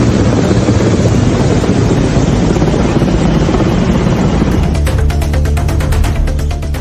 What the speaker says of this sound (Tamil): பாதுகாப்பு படையினர் தாக்குதலுக்கு பயன்படுத்தும் ஹெலிகாப்டர்களும் ஒத்திகையில் ஈடுபட்டன.